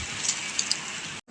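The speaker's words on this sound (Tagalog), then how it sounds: "Sobrang lakas ng ulan" Heavy rain pours in Qatar as a dense, steady hiss with a few sharp drops striking nearby, cutting off abruptly near the end.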